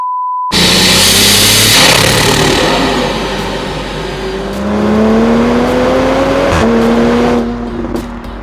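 A Stage 3 tuned BMW X5 40i engine revs and accelerates hard through several rising gear pulls, with a throaty intake roar close by and no talking.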